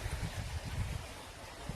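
Water gushes steadily from a motor-driven pump into a village farm field being watered for wheat, a continuous low rushing churn with no pause and no voices.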